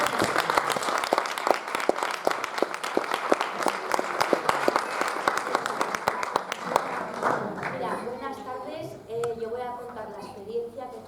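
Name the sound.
audience applauding loudly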